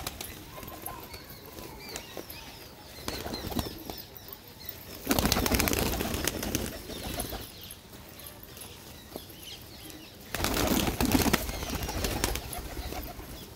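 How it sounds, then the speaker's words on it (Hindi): Pet pigeons coo and flutter in a loft, with soft rustling and bursts of wing flapping rising loudly twice amid a steady ambient hum. "ये मेरे कबूतर"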